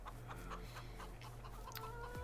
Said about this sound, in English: Our chickens are doing well.